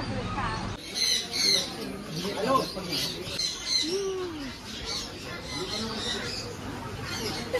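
Sharp bird squawks and chirps sound repeatedly at close range amid a busy indoor murmur at the pet market of Crawford Market, Mumbai, with people talking in between.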